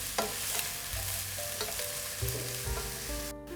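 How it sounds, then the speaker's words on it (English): A vegan chili mix sautés in a pan, hissing with a steady close sizzle under occasional scraping stirs, with no one talking. "So I'll probably let this be for 5 minutes, and I'll keep stirring it so it doesn't burn."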